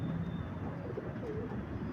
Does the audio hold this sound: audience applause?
no